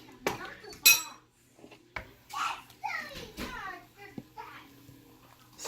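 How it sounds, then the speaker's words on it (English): A utensil stirs chicken egg drop soup with cilantro in a pot, giving light clinks and scrapes against the metal while someone talks over it in a kitchen. "Stir that up."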